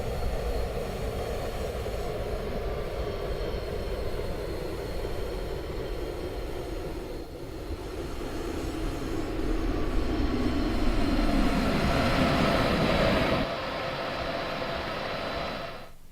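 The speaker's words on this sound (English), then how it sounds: "The sound effects of the train coming down the line is really good." Electric locomotive in the Train Simulator 2016 game rolling down the line on tracks, a steady loud rumble with a swelling, rising roar partway through and faint pinging of wheels over rails, then a sudden drop to a duller hum.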